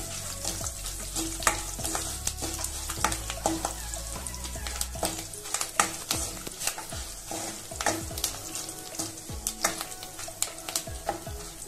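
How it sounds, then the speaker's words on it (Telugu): Dried red chillies and curry leaves frying in oil as they are stirred: a busy crackle and sizzle with frequent sharp utensil scrapes and taps against the pan, close and continuous, with no voices. "ఇలా ఫ్రై అవుతా ఉండాలి. ఇలా తిప్పుకుంటా ఉండాలండి, లేకపోతే మాడిపోతాయి."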